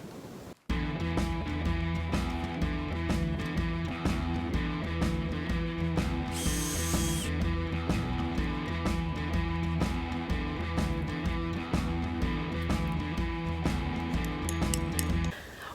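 A battery-powered precision tapper drills into a maple tree, its motor whirring loud and steady with a rattling ratchet texture after a sudden start. A brief high whine cuts in partway through.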